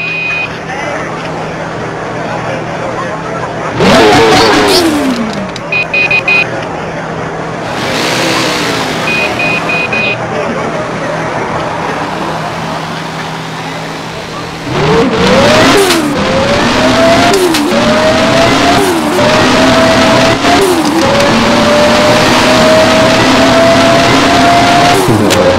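Cars rev hard and accelerate away in a street race, engines climbing through gears in rising whines, loud and close, with people talking between the runs.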